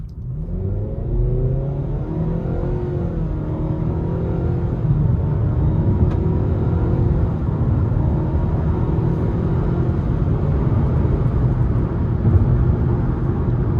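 A 2026 Nissan Sentra SL with a CVT pulls hard in sport mode, its engine droning loud and steady while the pitch climbs smoothly and holds high for the whole run, with no voices.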